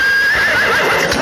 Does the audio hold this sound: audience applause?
no